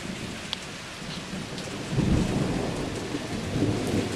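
Heavy thunderstorm heard from inside a garage, with steady loud rain pouring down and a deep rumble of thunder swelling from about halfway through, no talking.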